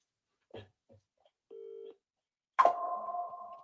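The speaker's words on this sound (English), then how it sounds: "It's calling, yeah. So they can all hear it's calling." A phone call from a football chat show host's handset: a few faint clicks and a short dial tone, then a loud electronic ringback tone starts sharply and holds steady near the mic, with no talk over it.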